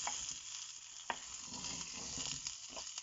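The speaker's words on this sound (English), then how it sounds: "tamarind and onion, and you need to fry them for" Tamarind and onion fry in a pan on low flame for moringa leaf pachadi, making a soft, continuous sizzle with occasional stirring scrapes and no talk.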